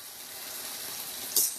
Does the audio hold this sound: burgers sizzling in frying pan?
yes